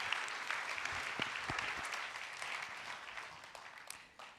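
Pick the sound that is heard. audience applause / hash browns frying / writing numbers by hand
audience applause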